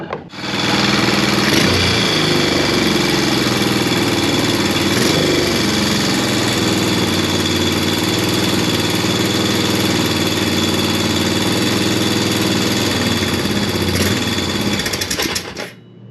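Right after a repair, a Honda Recon ATV engine runs steadily and loudly close by, a constant rattling drone holding for about fifteen seconds before cutting off at the end.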